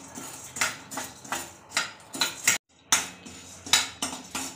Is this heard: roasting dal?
yes